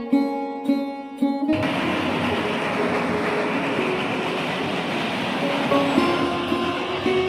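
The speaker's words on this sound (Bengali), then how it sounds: "দিলপাশার ব্রিজের উপর দিয়ে ট্রেন ছুটে চলেছে।" A train crosses a 650-foot, 15-pillar railway bridge built by the British in 1916. A brief tonal sound comes first, then a sudden loud, continuous rolling rumble that stays steady and close throughout.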